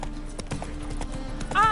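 Horse hooves clip-clop at a gallop in The Witcher 3: Wild Hunt, a steady rhythmic beat of footfalls over game music, ending with a brief whinny-like sweep near the close.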